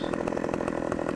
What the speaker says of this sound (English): I'm just going back in with the chainsaw